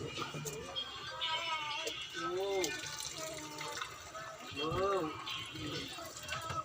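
Water from boiled pork for adobo is poured off in a continuous splashing stream that runs throughout while a person talks over it.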